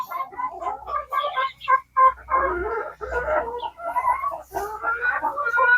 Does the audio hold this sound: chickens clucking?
yes